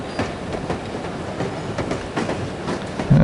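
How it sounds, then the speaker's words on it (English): A train rolling on rails in the video game No One Lives Forever, a loud continuous rumble with rhythmic clickety-clack from the wheels. "I love riding the train."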